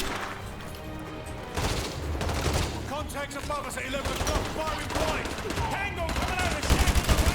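Rapid automatic gunfire bursts in Call of Duty Modern Warfare 2, loud repeated volleys and crackling shots with a voice talking over the battle.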